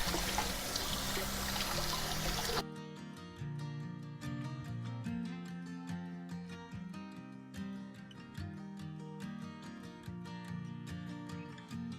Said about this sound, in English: Always give the scallions a good rinse.